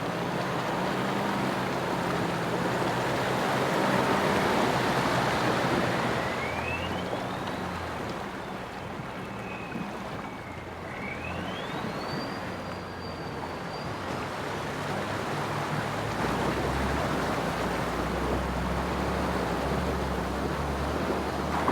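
Off-road vehicle driving straight across a clear, warm high-country river in Australia's Victorian High Country, with water rushing and churning steadily over a low engine rumble for about twenty seconds.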